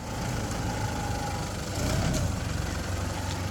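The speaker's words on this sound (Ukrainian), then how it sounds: "Це якийсь подшипник гудить на моторі, треба буде постріти." A steady, close, loud drone of a bearing humming on a running vehicle engine, with a low rumble and a faint whine that stays constant throughout.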